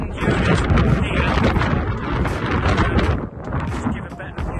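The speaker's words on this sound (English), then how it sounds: "it's really windy down here, so I don't know whether you'll be able to hear us all right" Strong wind buffets the microphone in constant gusty roars, loud and close, with a voice faintly audible underneath.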